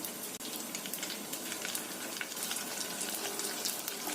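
A homemade Indonesian snack fries in hot oil over a medium-low flame, giving a dense, steady crackling sizzle with scattered pops, close up and with no talk.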